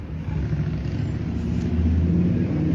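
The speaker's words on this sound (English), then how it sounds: "Some of the cars are just annoying on your ear." Car traffic in Coney Island, a steady low rumble of passing vehicles with engine noise building slightly, no voices over it.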